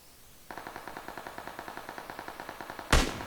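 Automatic gunfire in PUBG: a rapid burst of about twenty evenly spaced, fairly quiet shots, then one louder, sharper blast near the end.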